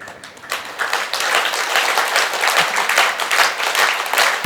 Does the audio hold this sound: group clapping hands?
yes